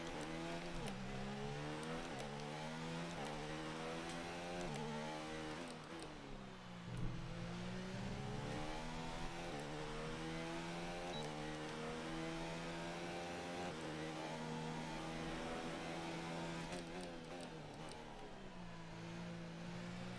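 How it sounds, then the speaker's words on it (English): An F1 car engine in the F1 2019 racing game screams at high revs through gear changes. Its pitch climbs, drops at each shift and climbs again in a continuous, steady drone that plays alone with no talk. "You can rev it out, but it's going to overheat the engine."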